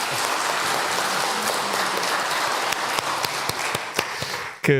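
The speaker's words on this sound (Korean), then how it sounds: "우리 목사님께 한 번 더 우리 박수 한번 드리겠습니다" A church congregation gives the pastor a round of applause at a worship service, sustained dense clapping that thins into a few distinct louder claps toward the end before a final short knock.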